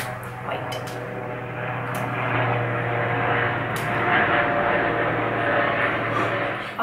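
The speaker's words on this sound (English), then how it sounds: "As a plane decides to fly over, we'll just wait." An airplane passing overhead outdoors, a broad rumbling engine drone that swells gradually and stays loud, with a few faint clicks near the start.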